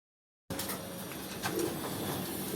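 A pigeon in a loft coos softly amid faint background sounds, the calls fairly quiet and close.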